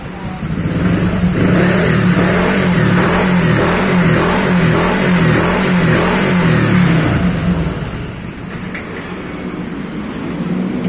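A Honda Vario 160 scooter fitted with a downdraft throttle body revs loudly close by in a sustained, pulsing drone, then settles lower near the end.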